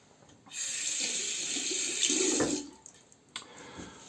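A tap gushes into a sink for about two seconds while something is rinsed, then shuts off, leaving a few faint clinks and drips.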